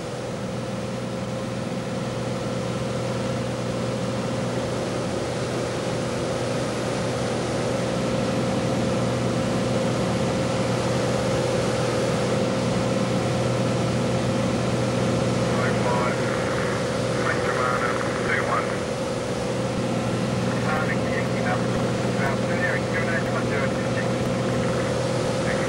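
An agricultural aircraft drones steadily while flying low over fields, a continuous close engine and propeller hum that holds level throughout, with a voice speaking over it.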